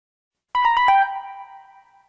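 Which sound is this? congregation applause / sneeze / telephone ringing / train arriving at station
telephone ringing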